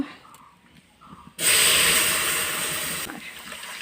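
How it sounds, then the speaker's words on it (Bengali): Dal sambar tempering hits hot oil over a clay stove, a sudden loud sizzle that flares up after a quiet start, holds strong and then eases slightly as it continues. "অনেক ভালো লাগে শব্দটা, ডাল সম্বাসের"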